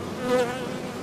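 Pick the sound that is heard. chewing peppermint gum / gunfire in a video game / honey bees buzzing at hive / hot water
honey bees buzzing at hive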